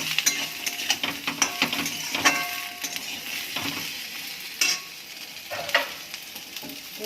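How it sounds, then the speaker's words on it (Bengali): Pieces of pointed gourd sizzle in hot oil in a pan while a utensil scrapes and clinks against the metal in sharp, irregular strokes, a steady fry under the stirring, with no talking. "পটল এগুলো আগে দিয়ে একটু ভেজে ভেজে নেবো"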